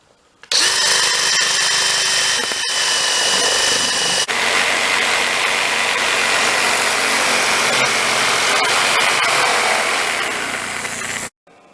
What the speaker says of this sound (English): First things first, I'll be cutting a hole in this plywood.